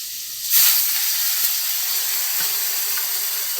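Water hits a hot cooking pan holding crushed ginger, bursting into a loud steady hiss of steam that holds for several seconds and only slowly settles.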